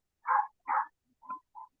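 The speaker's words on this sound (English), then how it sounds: "My dog sees the deer out in the yard. Yeah, they want to bark at it." Dogs bark at deer out in a yard: four short, separate bark-like calls, the first two fuller and louder, the last two shorter and softer, with silence between and no talking.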